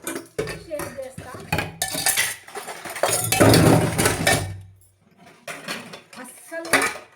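Pots, pans and steel dishes being scrubbed and washed in a home kitchen sink during an evening cleanup, with repeated metallic clanks, scraping and clattering in bursts, plus running water and brief pauses.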